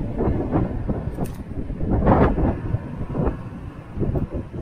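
Strong gusts buffet the microphone in heavy low rumbling bursts during an electric mountain bike ride in stormy weather, rising and falling throughout, loud and close.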